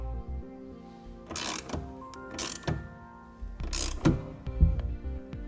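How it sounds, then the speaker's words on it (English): A 9/16 wrench tightening a clamp on a hard tonneau cover mounted to a 2017 Ford F-350 Super Duty, with several bursts of ratcheting clicks and metal clunks up close. "Then you can grab a 9/16 wrench and tighten it down the rest of the way."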